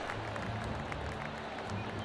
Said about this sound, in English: Wait a second, people are cheering.